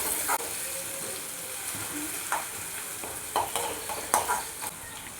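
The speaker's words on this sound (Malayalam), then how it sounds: "നമ്മുടെ ഉള്ളിയും വെളുത്തുള്ളിയും പിന്നെ നമ്മുടെ വേപ്പിലും കൂടിയിട്ട് നമുക്ക് ഇട്ട് കൊടുക്കാം നന്നായി ഇതൊന്ന് മൂപ്പിച്ചെടുക്കണം" Crushed onion, garlic and curry leaves fry in coconut oil with a steady close sizzle, broken by a few sharp stirring scrapes and spatters throughout.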